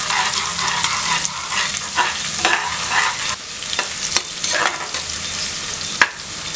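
Thinly sliced onion and green chillies fry in oil inside a pressure cooker for egg biryani, a steady close sizzle broken by frequent spoon-stirring scrapes and small clinks.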